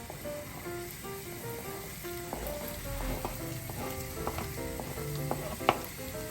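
Chopped onion sizzles steadily in hot cooking oil in a pan, with a constant frying hiss and faint clicks of stirring.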